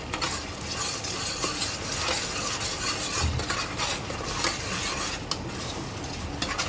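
Steady sizzling of a ginger-garlic spice paste frying in a pot for mutton paya curry, with scraping stirs and occasional light metallic clinks, continuous and close with no talking.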